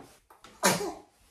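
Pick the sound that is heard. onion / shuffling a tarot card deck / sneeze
sneeze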